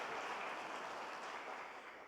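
Church congregation clapping in praise for Jesus in a soft, diffuse, continuous wash of applause that slowly fades.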